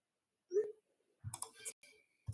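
A computer mouse clicking, with a few sharp, isolated clicks separated by short pauses and heard close by on their own.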